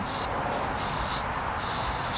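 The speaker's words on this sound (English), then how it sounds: "You want to spray some metal parts cleaner or some carb cleaner into this area." Carb cleaner sprays in several loud, bursty hisses into the clutch area of a Yamaha XS650 motorcycle, close up, with brief pauses between blasts.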